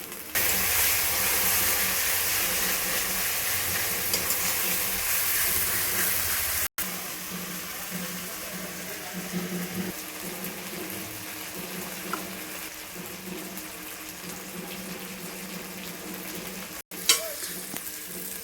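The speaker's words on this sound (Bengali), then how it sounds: "দেখো বন্ধুরা মশলাটা কত সুন্দর করে কষা হয়ে গেছে" Onion and ginger-garlic paste masala fries in a pan for chicken curry, a steady close sizzle with scraping stirs throughout, briefly cut by two short gaps, no talk.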